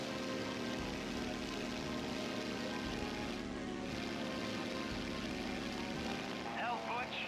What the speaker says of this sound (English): I could hear like an engine to my left,